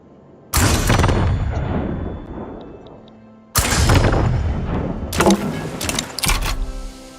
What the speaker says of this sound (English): I am going to send this guy to bombard the coast.